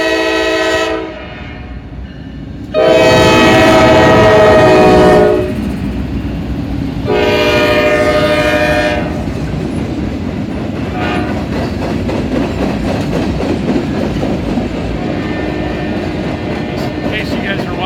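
A northbound train passes close by at Bellevue with loud, sustained horn blasts, two long ones separated by a pause, over a steady rumble of rolling wagons.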